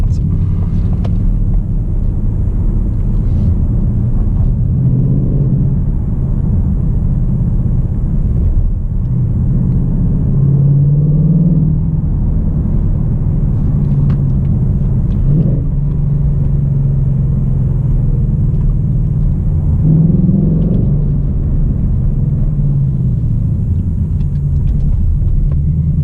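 A 2018 Ford Mustang GT V8 accelerates at night to overtake a bus, its deep engine rumble heard steadily from inside the cabin, rising and falling in pitch as it shifts through the revs.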